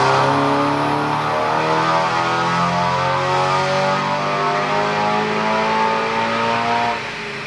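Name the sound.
Stage 3 Audi S3 engine revving on a dyno run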